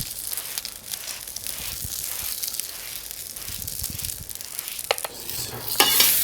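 Asparagus sizzles in olive oil on a grill, a steady close crackle and hiss broken by a few sharper pops near the end, with no talking.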